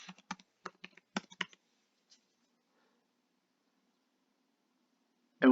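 A password is typed on a computer keyboard as a quick string of crisp, close key clicks over about a second and a half, followed by near silence.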